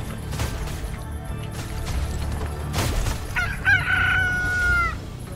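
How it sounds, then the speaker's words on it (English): A chicken in the video game Zombie Cure Lab gives one loud crow near the end, rising over a busy background of game noise and clatter, with no talking. "There goes the chicken"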